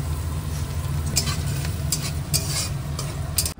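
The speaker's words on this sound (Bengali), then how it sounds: "এদিকে লাবড়ার তরকারিটা বসছে, মশলাপাতি ভেজে একবারে বসানো হচ্ছে।" Labra, a Bengali mixed vegetable curry, cooking in a pan after the spices were fried, giving a steady close sizzle and bubbling with a low rumble and a few brief clinks and stirs, no talk.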